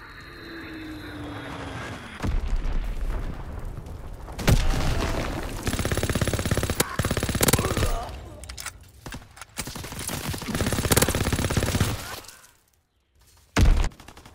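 Bursts of rapid gunfire and heavy explosions in Call of Duty: WWII, dense and loud with brief pauses, mixed with a game voice calling out alerts and aircraft noise.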